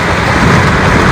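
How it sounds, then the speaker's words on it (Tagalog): Heavy rain pours in a loud, dense, continuous roar with no gaps and no voices. "Lumakas na naman yung ulan."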